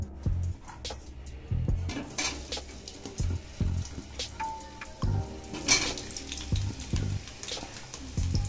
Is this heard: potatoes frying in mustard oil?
yes